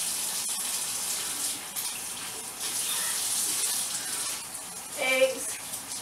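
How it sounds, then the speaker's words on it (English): A kitchen tap runs in a steady hiss of water during handwashing, close and continuous, with a brief clatter near the end. "You want to wash your hands constantly."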